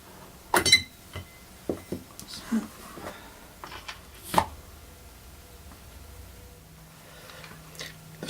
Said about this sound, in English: take out 3 or 4 of the stones and wash them and have a look